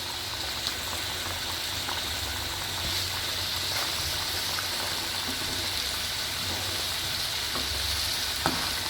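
Sambar with tomato and vegetables bubbling in a pot, a steady close hiss and simmering crackle running evenly throughout, with a few faint clinks and no voices.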